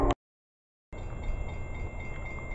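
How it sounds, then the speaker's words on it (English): An Amtrak passenger train passes after a brief silence, with a continuous close rumble of rolling wheels and a thin, steady high-pitched whine over it. "There goes the Amtrak train to Silver Star."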